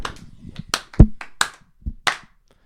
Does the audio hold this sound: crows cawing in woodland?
no